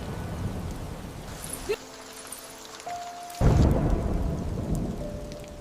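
Steady rain hisses throughout, with a deep rumble of thunder swelling partway through and the downpour growing louder afterward.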